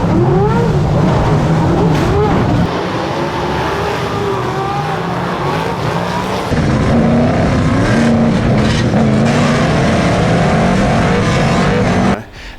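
Superstock race cars racing in full contact produce a loud, close, continuous engine roar with several overlapping rising and falling engine notes for the whole stretch, then cut off abruptly at the end.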